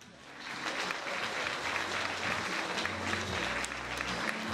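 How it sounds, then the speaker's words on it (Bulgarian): Wedding guests at a Bulgarian reception give sustained, dense applause for the best man Nikolai and the matron Neli. The clapping stays loud and steady across the whole stretch. "Нека още един път отправим аплодисментите към кумовете Николай и"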